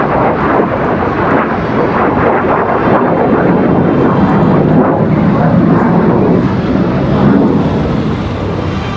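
A de Havilland Vampire jet flies a looping display maneuver at an airshow, its engine a loud, sustained rumbling roar that swells and rolls on without a break.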